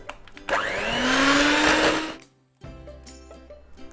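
Electric hand mixer beating sponge cake ingredients with lemon juice, a loud whirring motor that starts abruptly, runs steadily for about two seconds, then cuts off before quieter kitchen sounds resume.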